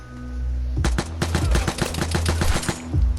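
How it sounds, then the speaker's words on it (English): Rapid, loud automatic bursts from a drum-magazine .22 long rifle machine pistol resembling a Sten in the shoot-out game, a relentless rattling stream of close shots with brief pauses between volleys. "It's a drum magazine 22 long rifle machine pistol, but it's more like it looks like a Sten. It's pretty out of control."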